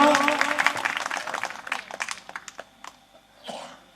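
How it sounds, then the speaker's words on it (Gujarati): At a spiritual satsang, an audience claps briefly for a visiting holy man. The dense clapping thins into scattered claps within a couple of seconds, followed by a cough and some shuffling. "તાળી વગાડો"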